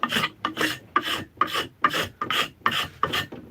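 Hand-carving a cobbler's hammer handle from a Canary wood offcut: a steady series of about eight rasping strokes, evenly paced and close, each a bright scraping burst, with no talk.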